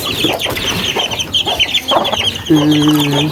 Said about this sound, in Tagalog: painamin na natin yan ating sisiw